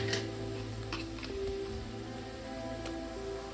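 Ginger garlic paste hitting hot oil with frying onions for a Bengali prawn fritter curry, a steady crackling sizzle with a few sharp pops and stirring scrapes, close and continuous.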